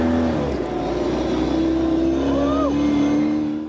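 A deep, throaty off-road 6x6 truck engine drones steadily through a loud exhaust, with a brief rise in pitch partway through.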